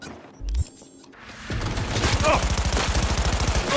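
Gunfire from the video game Cyberpunk 2077: Phantom Liberty. A short thump and a quieter lull lead into a loud burst of rapid automatic fire with evenly spaced shots.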